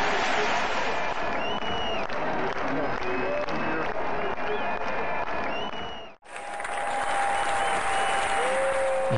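A large crowd at St Peter's Field, Manchester, in 1819 cheers and claps as processions with flags and banners march in, a dense roar of applause and voices that cuts out briefly and resumes with a whistle-like tone.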